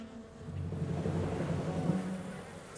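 Cartoon bees buzz around a bee hotel in a steady, droning hum that holds at an even level throughout, with no talking.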